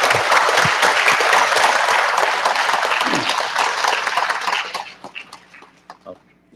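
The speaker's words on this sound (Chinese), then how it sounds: "热烈掌声欢迎" Audience in the Hualien County Council hall applauding visiting township delegates, dense sustained clapping that thins out and fades into scattered claps and quiet.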